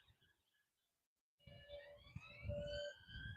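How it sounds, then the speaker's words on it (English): A wailing siren rises and holds its tone, distant but clear, after a brief silent gap, with low background rumble. "I don't know if you can hear them sirens, but they're loud."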